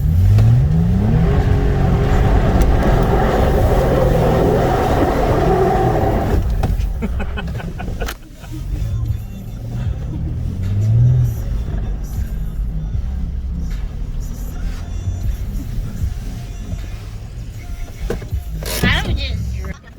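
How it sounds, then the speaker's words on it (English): An FJ Cruiser revs its engine loudly while spinning a four-wheel donut off road in the Kootenays, a rising engine roar that dominates the first half and then settles into a steady, rougher drone with people talking over it. "You gotta do the 4-wheel donut, I guess."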